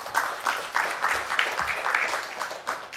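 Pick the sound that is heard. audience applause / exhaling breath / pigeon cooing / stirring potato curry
audience applause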